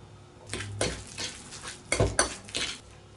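A spoon scoops sour cream into a bowl of buttery salmon rillettes, giving a few close clinks and scrapes of metal against the dish with short pauses between them.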